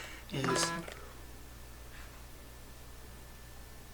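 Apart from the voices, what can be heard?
mobile phone sound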